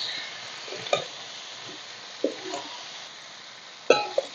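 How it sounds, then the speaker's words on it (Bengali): Jujubes (kul) being fried with turmeric in a pan, a soft, low sizzle close by, broken by three or four clattering stirring scrapes of a utensil against the pan. "এইভাবে অল্প একটুখানি ভাজা ভাজা করে নেব"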